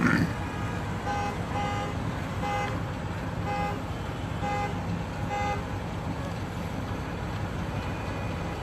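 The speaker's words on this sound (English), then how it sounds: "That's a fluid hauler truck too." Fluid hauler truck passing in a convoy, its horn giving a run of short, evenly spaced toots over steady road and engine noise at moderate distance.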